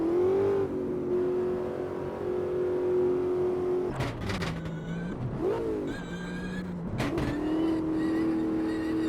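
Race car engine in the Automobilista 2 racing game, a steady revving drone broken by sharp throttle blips and gear shifts around the middle, loud and continuous with no talk.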